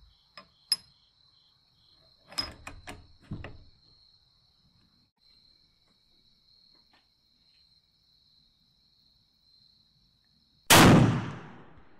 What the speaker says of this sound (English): Well, I can tell by the muzzle blast that the bullet made it out of the barrel.